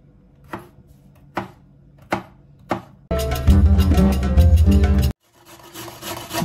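A knife chops green capsicum on a board, four separate sharp cuts spaced about a second apart, followed by a dense, louder stretch of rapid rubbing and chopping that stops suddenly, then faint noise.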